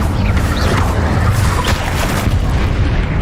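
Incendio fire spell cast in the game Hogwarts Legacy, heard as a loud, dense, sustained roar of booming blasts that fills the whole moment without a break.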